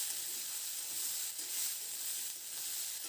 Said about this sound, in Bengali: সবজিগুলোকে মিডিয়াম ফ্লেমে খুব ভালো করে নাড়াচাড়া করে লালচে রং ধরা পর্যন্ত একটু ভেজে নেব